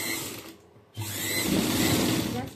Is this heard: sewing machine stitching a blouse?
yes